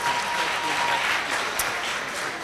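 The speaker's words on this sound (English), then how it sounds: "Let's clap for him." Sustained clapping from a gala awards audience in Northern Uganda, a loud even crowd of hands with no pause.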